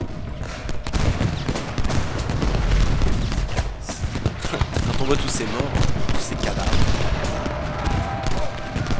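Battle din from Ultimate General: Gettysburg: steady musket volleys and cannon booms crackle continuously beneath someone speaking over the gunfire.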